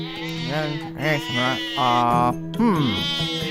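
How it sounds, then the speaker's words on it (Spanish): Sheep bleating in a series of close, wavering calls with short pauses between them, each bleat loud and quavering. "Si un hombre tiene 100 ovejas y una de ellas se pierde"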